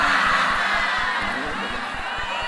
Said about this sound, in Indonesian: Tepuk tangan untuk Gus Hakim.